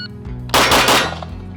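A loud burst of three rapid pistol shots from a pistol fitted with an AR-platform conversion kit, fired in quick succession close by, ringing out against a quiet background.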